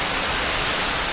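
Heavy rain pours down in a steady, dense hiss, loud and unbroken, with no other sounds standing out.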